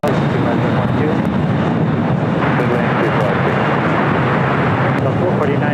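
A heavy jet aircraft departs at LAX, its loud, steady engine roar filling the scene close by, with a voice faintly audible beneath the noise.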